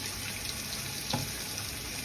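A kitchen tap runs to rinse a sweet and add water while cooking, giving a faint, steady hiss of flowing water with a small clink partway through.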